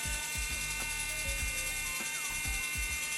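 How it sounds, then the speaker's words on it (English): The steering head motor of an RC-converted Bruder Ausa dumper turning, giving a continuous mechanical whir with regular clicking, ratchet-like gear ticks about twice a second, steady and close with no one talking. "so I can hear the motor turning"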